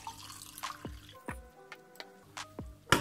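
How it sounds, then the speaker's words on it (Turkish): A homemade slimming drink is poured through a kitchen strainer, giving a run of separate drips and small splashes that fall at an uneven rhythm, close by and fairly quiet, with no talk over them. "Şimdi süzmek için süzgece ihtiyacım var."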